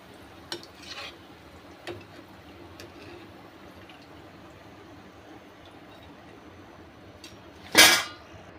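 Potato sticks dropped one at a time into hot oil over a low flame give a faint, steady sizzle with a few soft clinks, then a sharp, loud splash and spatter near the end. No one speaks.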